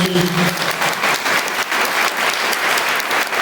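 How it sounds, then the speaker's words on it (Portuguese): Church congregation applauds during a sermon, a full, loud burst of many hands clapping that carries on evenly throughout, with a brief tonal voice or hum at the very start. "Pode aplaudir o Senhor."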